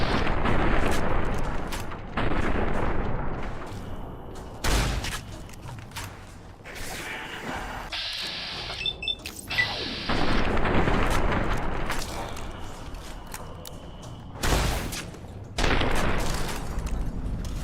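Gunfire in Fallout: New Vegas at the Sierra Madre, loud bursts of shots in rapid clusters with brief gaps, mixed with game clatter and mechanical noise throughout.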